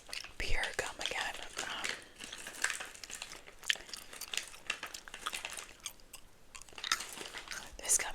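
Pure brand spearmint gum chewed close to the microphone, giving soft, wet, continuous mouth clicks and smacks with faint whispery breaths throughout.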